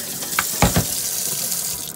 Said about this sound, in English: then I'll rinse it off. You know, just under the water.